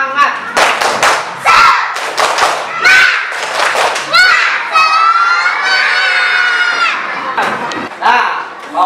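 A classroom of children repeating the 'tepuk semangat' spirit chant, loud unison shouted phrases punctuated by quick clap bursts, followed by a long drawn-out collective shout near the end.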